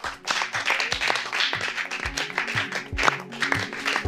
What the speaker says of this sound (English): give a big round of applause to everybody